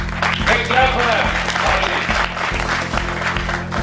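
Brief burst of audience clapping welcoming delegates at a media and tourism summit, lively applause mixed with a steady rhythmic beat and background talk.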